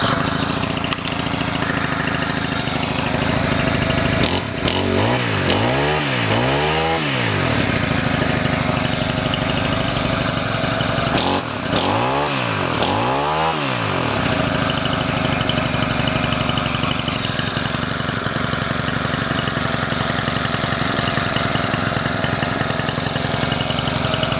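Husqvarna weed whacker with an aftermarket carburetor, its small two-stroke engine running loudly and close by with a steady buzz, revved up twice in rising and falling sweeps before settling back to a constant drone.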